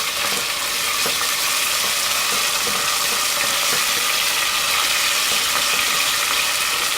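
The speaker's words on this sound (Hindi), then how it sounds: "अब इसको भूनेंगे हल्का हल्का गरम मसाले के साथ" Beef keema fries with garam masala in a pan, giving a steady, dense sizzle throughout with faint scraping clicks of stirring, close and continuous, no voices.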